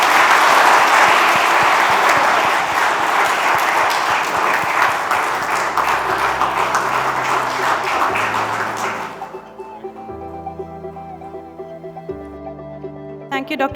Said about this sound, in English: let us show our appreciation with a thunderous applause